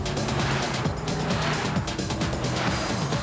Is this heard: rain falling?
no